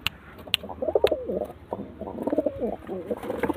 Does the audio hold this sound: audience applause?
no